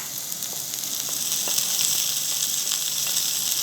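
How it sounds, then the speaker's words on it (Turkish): Steady sizzling of olives and chopped parsley being sautéed in a pan, a continuous hiss with faint crackles and pops, close by and fairly loud. "Ve hızlı bir şekilde yine kavuruyoruz bunları."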